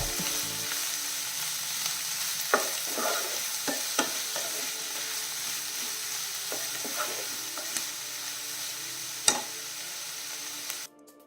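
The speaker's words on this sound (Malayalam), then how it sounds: "അപ്പോൾ നമ്മുടെ സവാള നല്ല രീതിയിൽ വഴണ്ടി ഇട്ടിട്ടുണ്ട്." Onions are sautéing in a pan over a medium flame, giving a steady close sizzle with a few scattered scrapes and taps of a utensil stirring, and no voices.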